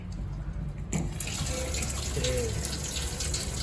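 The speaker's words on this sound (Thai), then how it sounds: "เปิดน้ำดู" Water runs steadily from a bathroom sink faucet that has a fault, a close continuous gushing flow starting with a brief knock, with a faint voice briefly underneath.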